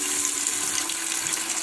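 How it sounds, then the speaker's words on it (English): Water pours into a soup pot of sautéed vegetables as a steady, even rushing splash lasting under two seconds. "And we're just going to pour in some water."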